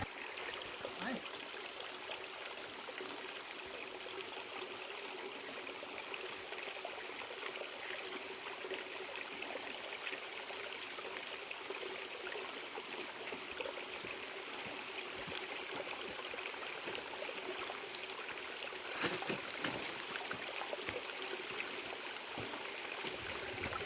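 Small stream of the Dudhi river on the path to Baba Math in Patalkot, flowing steadily as a continuous broadband rush and trickle of water, close and even throughout, with no voices over it.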